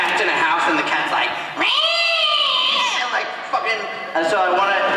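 A voice imitates an aggressive cat, giving drawn-out snarling yowls and hisses that rise and fall, loud and close, with short breaks between the cries.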